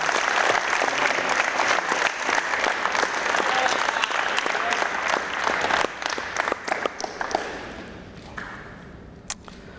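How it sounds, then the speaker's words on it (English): Applause from a gathering as high school football players sign letters of intent to a college: steady clapping that thins out after the midpoint into scattered individual claps, with a few sharp camera-like clicks near the end. "give them a round of applause while they sign their letters of intent"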